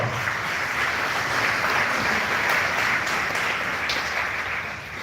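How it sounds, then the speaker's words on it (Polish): Steady, dense applause from an audience at a live event, sustained and fairly loud from start to finish with no speech over it. "Daj mu ogromne brawa"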